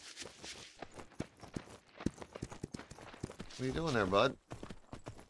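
Rhythmic clip-clop of horse hooves in the video game Myth of Empires, steady footfalls under someone talking, with a brief tonal game sound near the end.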